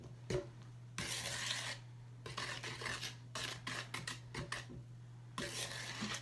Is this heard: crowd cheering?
no